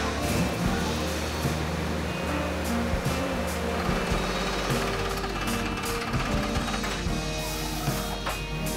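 Stick welding on a cast iron repair with Nomacast welding rods gives a steady, loud crackling buzz that runs unbroken throughout, with no talking.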